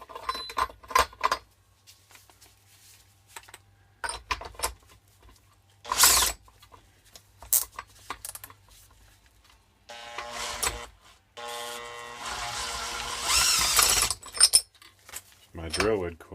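A handheld drill spins over a 1987 Snapper mower engine with the spark plug removed, giving a few seconds of sustained whirring after scattered clicks, clanks and handling noises, with low talk nearby.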